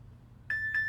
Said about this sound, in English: So you're going to hear a beep,